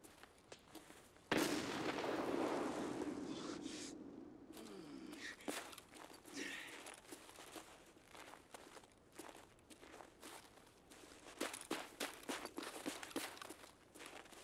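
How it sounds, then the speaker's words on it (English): A grenade thrown toward the stairs in a tactical shooter on the Customs map goes off as one sharp blast, followed by faint footsteps and clicking movement. "I'm throwing another nade right there"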